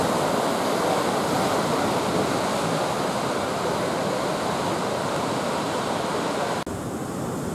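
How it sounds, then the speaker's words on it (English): Ocean surf washes steadily into rocky tide pools at Montana de Oro on the coast, a loud continuous roar of breaking waves with wind noise, heard close with no voices. "We're down here in the tide pool area, right? We got the surf coming in. Here's wave here."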